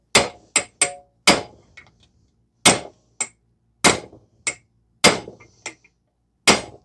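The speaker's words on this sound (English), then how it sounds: "So I'm still trying to hammer it out." A series of sharp metallic hammer strikes, irregularly spaced with brief ringing after each, close and loud, some blows in quick pairs. Hammering out a front wheel bearing on a Toyota Corolla.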